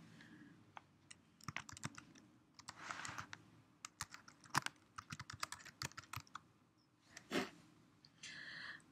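Quiet, uneven keystrokes tap on a computer keyboard while someone updates a profile, arriving in short bursts with brief pauses between them.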